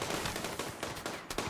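Rapid gunfire from a RimWorld battle, dense overlapping shots and bursts crackling continuously at close range with no voices over them.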